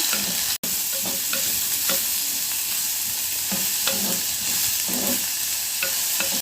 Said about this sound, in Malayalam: ഇനി നമുക്കതിലേക്ക് ചെറിയുള്ളി അതുകൂടെ ചേർത്ത് കൊടുക്കാം നന്നായിട്ടൊന്ന് വഴറ്റാം